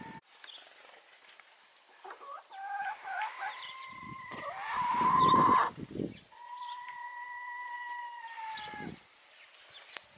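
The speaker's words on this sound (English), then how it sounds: "I'm gonna let the laying hens out." Laying hens cluck and call near a barn on a farm on a cold morning, with loud drawn-out squawks and softer clucks coming in bursts, close by and with no talk over them.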